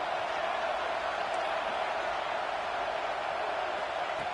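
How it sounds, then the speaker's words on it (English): Crowd noise fills a college football stadium in a video game: a dense, steady roar with no peaks or breaks, heard loud and close for the whole stretch. "Listen to the crowd energy here in the early going."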